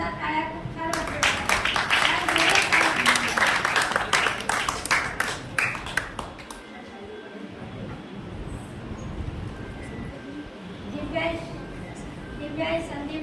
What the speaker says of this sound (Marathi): त्यासाठी जोरदार टाळ्या खूप छान वाटतात.